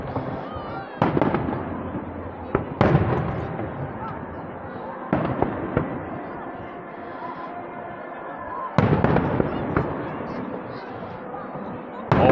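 Fireworks at the Blackpool fireworks championships in 2024 burst in a string of loud, sharp booms and crackles, several heavy blasts spaced a few seconds apart over a continuous rumble, with voices murmuring underneath.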